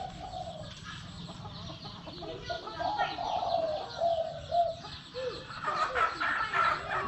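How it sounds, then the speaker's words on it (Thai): A dove coos in a decoy trap, several repeated rounded coos rising in loudness toward the end, fairly close, with faint background voices and bird activity. "เดี๋ยวอยากให้ฟังเสียงขันโยนก่อนนะครับขันแรก"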